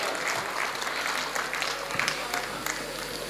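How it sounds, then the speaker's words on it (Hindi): Mushaira audience at Taj Mahotsav applauds to welcome poet Atul Ajnabi, a steady, dense wash of clapping from a crowd lasting throughout, with a sharp louder burst right at the end. "जोरदार तालियों से इस्तकबाल कीजिए"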